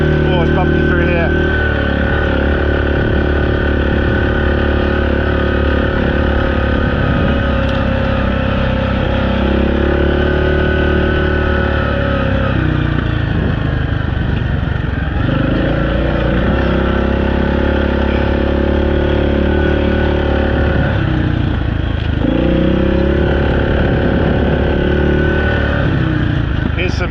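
A quad bike engine drones loudly and steadily while riding over bumpy farm ground, the pitch rising and dipping with throttle changes and jolts, close and continuous for the whole stretch.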